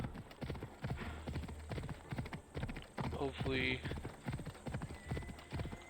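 Hooves of a horse ridden in a video game clop in a steady rhythmic gait, with a whinny partway through and someone talking over the sounds.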